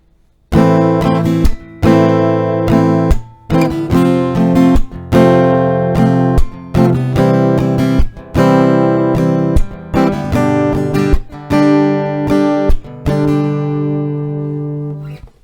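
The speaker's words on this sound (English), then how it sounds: "with that strumming pattern, you will play 2 rounds of the chord progression." Acoustic guitar strummed steadily through a chord progression, chords changing every couple of seconds with crisp down-up strokes, close and loud, no voice.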